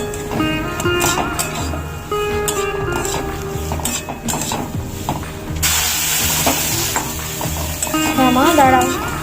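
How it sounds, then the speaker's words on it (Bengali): Semolina upma being stirred in a pan as water goes in a little at a time: continuous scraping and sizzling, with a brighter steamy hiss in the second half, under a steady tonal background. "এইভাবে হালকা হালকা করে জল দিয়ে নাড়তে হবে কন্টিনিউ, নাড়াটা বন্ধ করা যাবে না"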